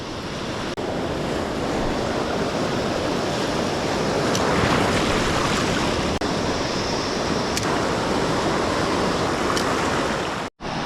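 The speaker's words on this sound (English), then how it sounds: "There's quite a lot of whitewash" Waves break as whitewash over a massive coastal rock shelf, a loud continuous roar of surf and rushing water with some wind buffeting, heard close and without voices.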